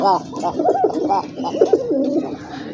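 Pigeons coo close by, a run of soft, throaty, rolling calls that overlap one another.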